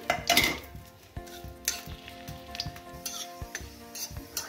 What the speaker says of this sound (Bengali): তেলটা গরম হয়ে গেছে, এবার কুচানো রসুনগুলো দিয়ে দিলাম আমি।